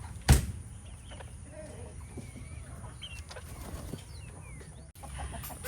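A hen beating its wings in a garden, one sharp, loud flurry near the start, then quieter rustling with faint bird calls in the background.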